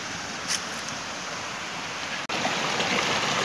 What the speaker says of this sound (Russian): Речка вон там снизу